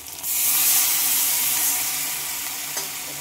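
Ginger-cumin paste with turmeric, salt and a splash of water sizzles in a pan, a sudden loud hissing burst that settles into a steady, close frying sizzle with a faint stirring clink near the end.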